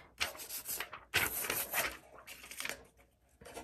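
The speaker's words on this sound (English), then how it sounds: "And then you just burnish it with the other side." A rub-on decor transfer is burnished down with firm rubbing strokes in several short, close scratchy bursts separated by brief pauses, soft overall with no voices.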